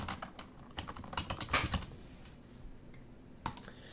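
Fingers type a new password on a computer keyboard while setting up a Ubiquiti EdgeRouter X, giving close, irregular bursts of crisp key clicks with short pauses between them and no talk.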